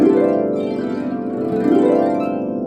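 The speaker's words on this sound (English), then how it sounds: "If I play a straight C glissando" A pedal harp plays a straight C glissando, with rapid cascades of plucked strings sweeping up and down and ringing together in a bright, resonant wash that repeats over a few seconds.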